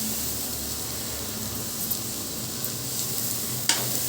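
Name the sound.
chopped tomato frying with ginger and onion in pan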